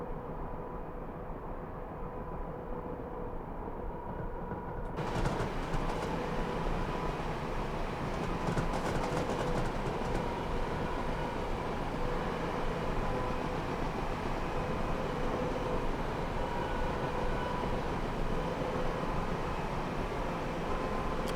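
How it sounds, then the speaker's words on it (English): A slow train in Train Simulator Classic on the Chatham Main Line, heard as a steady rolling rumble and hum from the cab, with a brief rattle of clanks around five seconds in, continuous and with no talking. "I think this is the slowest train in Train Sim."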